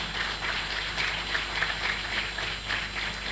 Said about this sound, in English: A round of applause for Allen Onyema.